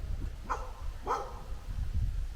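A dog gives two quiet barks about half a second apart, followed by faint rustling, heard fairly close in a home setting.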